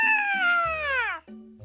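A cat lets out a long, loud, falling meow lasting over a second, close and clear, with a brief quieter sound afterward.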